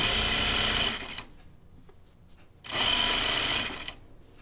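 A sewing machine stitches a Reeta shirt dress from Named Clothing in two loud, steady runs, pausing briefly between bursts of rapid mechanical whirring.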